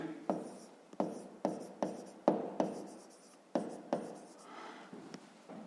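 Pen strokes on paper while math is written by hand, about ten short scratchy bursts in an uneven rhythm, close and fairly quiet, with no talking.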